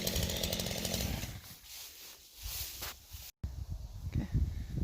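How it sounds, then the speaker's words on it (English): Wood chipper shredding a rotten dead fir tree on an outdoor paintball field, a loud steady grinding roar with crunching surges, a brief dropout, then the machine running on. "we'll bring in the chipper,"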